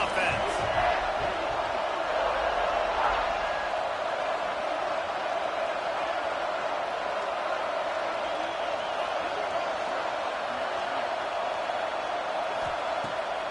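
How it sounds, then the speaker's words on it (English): Steady, dense roar of a football stadium crowd in a video game, holding loud and even for the whole stretch without breaks or swells. "This crowd trying to make life miserable for this offense."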